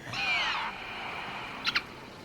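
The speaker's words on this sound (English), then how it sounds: "It's a raven's cry." A raven gives a harsh, drawn-out cry outdoors in open low ground, followed a moment later by two short sharp calls, fairly close against a quiet background.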